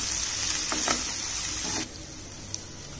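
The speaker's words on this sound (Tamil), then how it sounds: "இப்ப இந்த வெங்காயம் வதங்கிறதுக்கு மட்டும் கொஞ்சமா உப்பு சேர்த்துக்கிறேன். ஒரு 2 நிமிஷம் ஆயிலே வதக்கிக்கலாம்." Onions sauté in oil in a pan, sizzling steadily and softly up close, with a few light stirring clinks before the frying noise drops to a quieter hiss.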